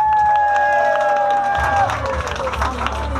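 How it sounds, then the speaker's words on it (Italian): Wedding guests at a reception at Tenuta Querce Grosse burst into clapping and cheering, a lively crowd mix of applause and shouts over music, building louder midway through. "Grande applauso!"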